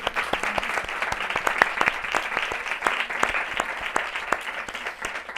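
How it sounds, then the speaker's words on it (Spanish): Audience applause at a Creative Mornings talk in Madrid, a steady, moderately loud wash of many hands clapping that runs for over five seconds. "Otro aplauso para Alex, que está aquí"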